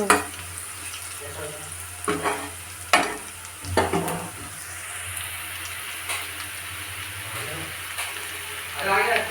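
Chopped onions sizzle steadily in a pan, browning for a masoor dal and spinach dish, with stirring scrapes and clatters breaking through the hiss every second or so, close and fairly loud.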